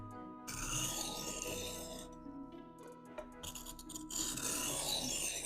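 Knife blade rasping across a Spyderco medium sharpening stone, a steady gritty scraping close by that pauses briefly and then resumes.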